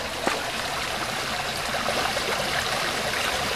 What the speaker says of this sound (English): Here you go, straight into the river stream.